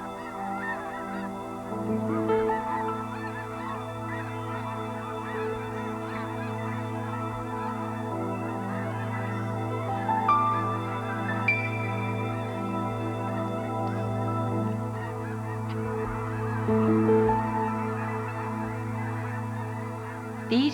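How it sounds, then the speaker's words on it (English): Young snow geese newly arrived from the Arctic honk repeatedly in a flock, scattered calls over a steady low background hum. "These young snow geese were hatched this year in the Arctic."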